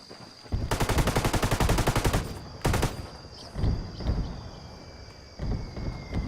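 Mortar and automatic gunfire in a video game match: a long, dense burst of rapid shots, a second shorter burst, then several lower thumping impacts spaced a second or so apart.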